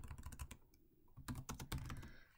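Quick bursts of keystrokes on a computer keyboard, close and crisp, with a short pause in the middle before a second flurry of clicks; no talking.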